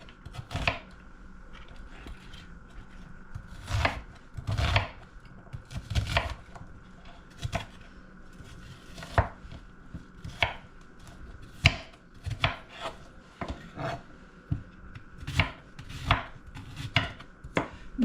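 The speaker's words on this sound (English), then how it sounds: "Now I'm going to chop the onion up" A knife chops an onion on a cutting board, close, distinct thuds in an uneven rhythm, some in quick bursts and others spaced apart, with no voices.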